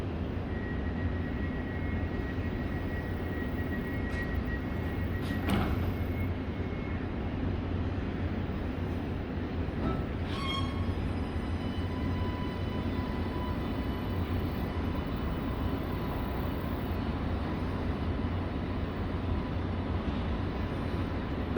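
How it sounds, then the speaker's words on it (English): A Sydney light rail tram, an Alstom Citadis 305, rumbles steadily nearby, with a bell ring and a rising electric motor whine as it pulls away toward Randwick over continuous low traffic noise. "time to watch another tram depart and make its way towards Randwick"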